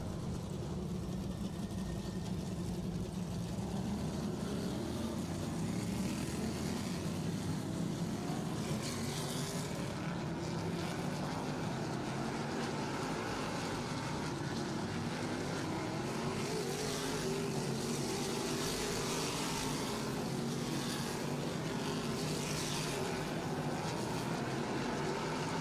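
NASCAR Modified race cars run hot laps at Riverhead Raceway, making a continuous roaring engine drone at a distance that swells and fades as the cars circle the track.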